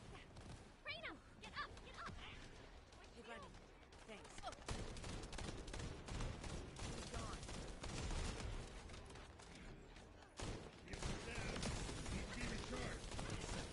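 Shotgun blasts and gunfire in The First Descendant on PS5, dense repeated shots and mechanical clatter over busy game audio, with a voice talking intermittently.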